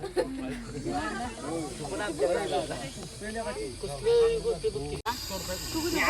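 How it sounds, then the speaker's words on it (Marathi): An aggressive, rescued Russell's viper gives a shrill hiss likened to a pressure cooker whistle, with bursts of hissing that rise and fall under someone speaking nearby. "पूर्ण ॲग्रेसिव्ह असताना असा आवाज काढतो कुकरच्या शिट्टीसारखा."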